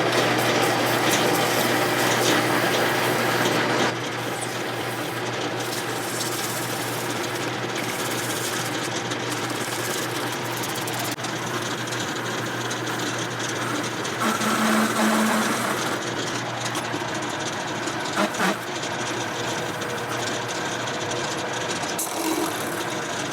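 A lathe-style machine steadily cuts half an inch off the diameter of a worn plastic self-propelled lawn mower wheel, a continuous mechanical whir and scraping that drops slightly in level after the first few seconds and runs on without talk.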